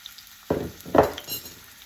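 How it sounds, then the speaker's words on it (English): Crushed ginger, garlic and chilies drop into hot oil for an okra dish, setting off a sudden close sizzle, then a second louder burst that fades into a gentle fry. "when the oil is hot enough, I'm going to add 1 tablespoon of your crushed ginger, garlic and chilies to it"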